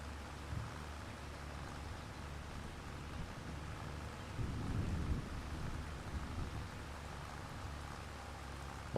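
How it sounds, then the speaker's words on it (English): Rain falls in the Farming Simulator 25 game as a steady, soft hiss, with a low rumble swelling briefly midway, faint and continuous, and no talk. "And here comes the rain."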